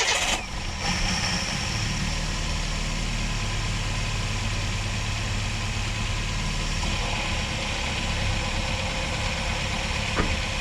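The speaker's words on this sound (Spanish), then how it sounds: "Vamos a encender el motor." A Chevrolet Spark/Beat engine starts with a short burst, then settles into a steady, close idle that runs without a break.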